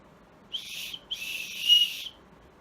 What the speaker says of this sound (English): And then there's this thing is the whistle.